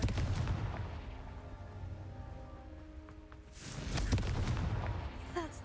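The Confringo blasting curse goes off in a video game with heavy booming blasts, one burst early and another loud burst near the end, separated by a quieter rumbling stretch.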